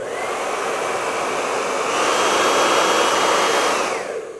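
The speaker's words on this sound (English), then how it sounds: "I'll just put a hairdryer in, and then what I'll do is I'll turn this on" A handheld hairdryer runs steadily on battery power from a Zeliox Neo portable power station, a loud continuous whoosh of motor and airflow that holds even for several seconds and then begins to fade as it shuts off.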